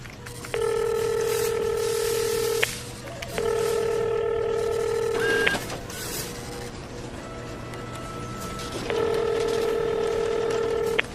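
An outgoing phone call rings unanswered, with three long ringback tone bursts separated by pauses over a low steady hum.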